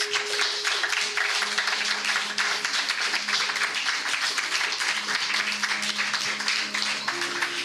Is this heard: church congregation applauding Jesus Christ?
yes